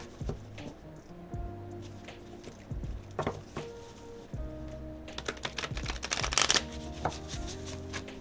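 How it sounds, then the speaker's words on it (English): Tarot cards are shuffled by hand in quick riffling and patting bursts, close and fairly quiet, speeding up toward the end, with no talking. "I'll try shuffling a little faster."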